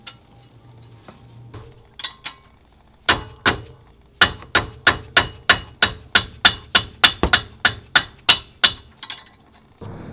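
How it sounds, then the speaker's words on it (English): A mallet striking a 17mm wrench on a brake caliper bolt during a 2008+ Subaru WRX Brembo STI brake swap, a run of about fifteen sharp metallic blows in steady rhythm, close and loud, after a few scattered taps. "you're going to take your 17mm and go ahead and place it on the back, and probably you want to hit it with a mallet to get it broke"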